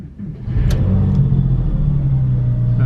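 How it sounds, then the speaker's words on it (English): A rebuilt salvage Porsche 911 engine cranks and catches, then settles into a steady, loud rumbling idle close by. "when we turn the car on"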